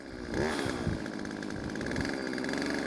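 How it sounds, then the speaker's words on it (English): A chainsaw revs up and runs at a steady, loud buzzing idle-to-high pitch close by, its engine note holding continuously after a brief rise at the start, with no talking. "Today we're talking all things chainsaw, specifically chainsaw safety. So let's fire this thing up and let's get some wood cut."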